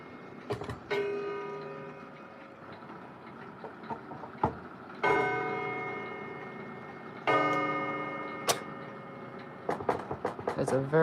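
An Ingram clock strikes its harsh, poor-sounding gong several times at uneven intervals, each stroke ringing and slowly decaying, with lighter clicks and knocks between strikes in a quiet room.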